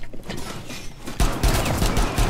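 A burst of rapid gunfire rings out in a tactical video game shootout, with dense overlapping shots and a louder volley after a brief lull, loud and close, with no talk over it.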